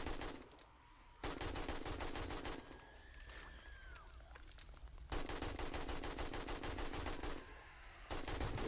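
Rapid automatic gunfire cutting down crawler zombies in the video game 7 Days to Die, loud dense bursts of shots in long stretches separated by brief pauses.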